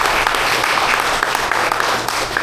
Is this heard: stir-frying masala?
no